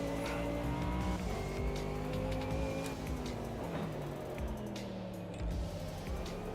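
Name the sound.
car tyres squealing in AMS2 sim racing video game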